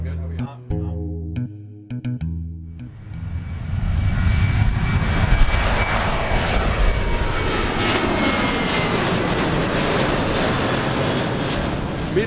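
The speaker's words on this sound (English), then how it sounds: "Even as some Southwest flights depart, more and more planes arrive from across the country." Jet airliners roll and idle at the Southwest Airlines gates of an airport terminal, a loud continuous engine roar building after a few seconds of faint tonal sounds and persisting steadily throughout.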